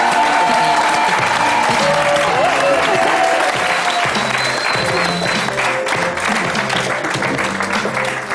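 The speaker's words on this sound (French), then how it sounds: "Merci de l'applaudir." Loud, sustained studio audience applause from a French television talk show, filling the whole stretch with dense clapping and some crowd noise as a guest is welcomed onto the set.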